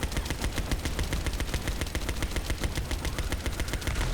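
Rapid automatic gunfire from shooting in the video game The First Descendant, a dense continuous burst of shots lasting the whole stretch, loud and close with no talking.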